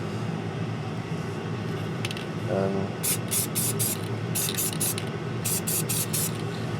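Short bursts of spray paint hiss from an aerosol can, several quick blasts in two clusters, over a steady low background hum.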